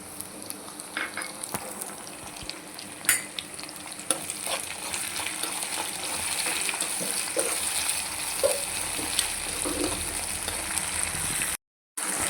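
A small tomato drops into a pan of softened onions and curry leaves for a dried brinjal curry, setting off a steady, close sizzle and fry with scattered stirring clicks and no voices.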